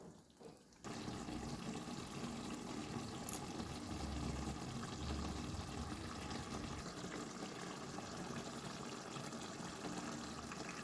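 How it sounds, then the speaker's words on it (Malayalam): Water poured into a simmering tuna pepper fish fry with cashews: after a brief quiet start, a faint, steady pouring and bubbling hiss continues to the end, no voices. "അപ്പോൾ അത് വേവുന്നതിന് വേണ്ടിയിട്ട് നമ്മൾ കുറച്ച് വെള്ളം ഇതിലേക്ക് ഒഴിക്കണം"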